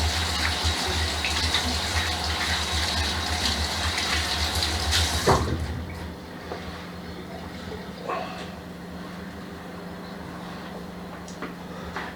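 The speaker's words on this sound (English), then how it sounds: "just going to wash the hands" Tap water runs steadily from a kitchen faucet while hands are washed under it, a loud continuous gush that cuts off abruptly about halfway, leaving quiet room tone with a few faint clinks.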